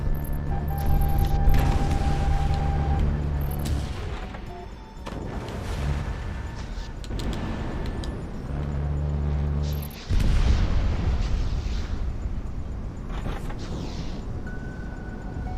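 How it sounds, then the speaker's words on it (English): Missile launch and explosions in a video game: loud bursts and booming blasts with rumbling low end, sharp impacts near 0, 4, 8 and 10 seconds, tonal game effects layered over continuous battle noise. "Missile away."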